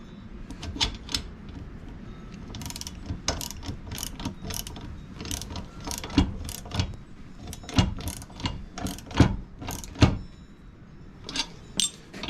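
A socket wrench ratchets while tightening bolts on an ATV electric winch, quick bursts of clicking in irregular runs, close and fairly quiet against a low background.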